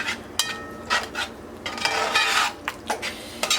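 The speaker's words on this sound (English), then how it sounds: "Mix everything up." A spoon stirs spices in a pot of peppered fish stew, scraping and clinking against the metal in quick irregular bursts, close but fairly soft, with no voices.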